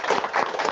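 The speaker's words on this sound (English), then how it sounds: "Yeah, clap." A few people clap at the close of an online webinar, a short run of soft claps in a quick rhythm, faint and brief.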